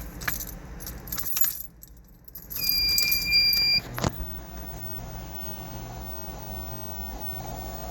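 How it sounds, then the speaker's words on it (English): Power inverter in a Ford Explorer multimedia setup gives a single steady electronic beep lasting about a second as it switches on, after some brief clatter and with a low vehicle hum behind. "So that beep was just the inverter turning on."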